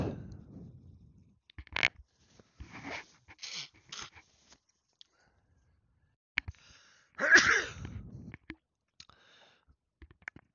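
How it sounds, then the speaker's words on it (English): A nearby person sneezes loudly, with a few softer sniffs and rustles before it, in otherwise quiet surroundings. "about to sneeze"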